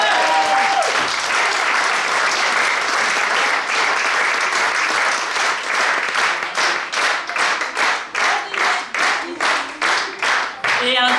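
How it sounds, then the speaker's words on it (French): A large audience applauding singers at a show, a loud dense burst of clapping that settles into rhythmic, unison clapping in time near the end, with a voice at the start. "Et un tonnerre d'applaudissements à ces chanteurs, ces chanteuses"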